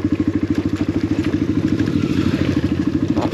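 A motorcycle passes by on a trail near a Suzuki DR350 ride, its engine throbbing in a rapid, regular pulse that stays loud and close for the whole stretch.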